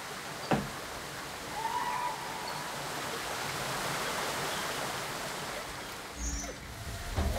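Flowing water in the video game Raji: An Ancient Epic, a steady broadband rush like a stream or waterfall, moderately loud and continuous, with a couple of faint tonal blips over it.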